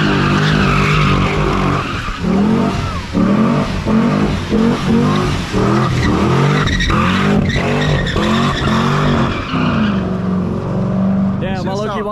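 A Chevrolet Corvette fitted with new wheels revs hard on a dyno. The engine roars loud and close through repeated surges with squealing tires, and voices talk over the noise.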